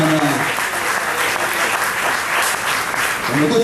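A church congregation applauds during a Spanish-language sermon, a steady, dense wash of clapping from many hands that fills the space for a few seconds.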